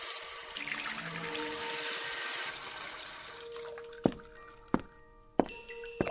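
Water streams steadily into a watering vessel for potted wisterias, then gives way to a few sharp, separate clanks and drips near the end.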